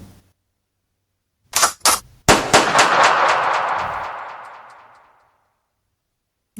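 A gunfire sound effect: two quick sharp cracks, then a loud close blast whose rumbling tail fades over about two seconds, with no voices.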